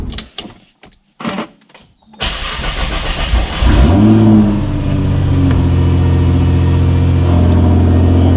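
A Nissan GTR R35 cold-starts after a few clicks, its engine flaring into a loud rev before settling into a high, steady fast idle that continues to the end.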